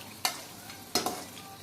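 Masala chicken stirred in a pan after a sprinkle of pepper powder: three distinct scraping strokes of a utensil against the pan over a faint sizzle, close and brief.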